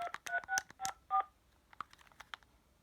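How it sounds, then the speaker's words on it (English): An AT&T EL52210 cordless phone handset plays a quick run of DTMF dialing tones, several clipped beeps close together, then a few fainter, sparse, intermittent tones trailing off. "it sounds like it doesn't really want to let you hear the dialing tones"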